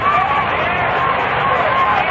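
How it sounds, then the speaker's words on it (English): Shirt-sleeve afternoon crowd at a Mets vs Phillies baseball game, a steady, dense murmur of many distant voices filling the ballpark at even loudness throughout, with no single voice standing out. "This is a typical shirt sleeve crowd on hand this afternoon."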